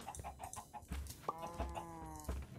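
Chickens cluck in the game Minecraft, a run of short, close, choppy clucks and squawks with a brief tonal call in the middle, heard clearly with no talk over them.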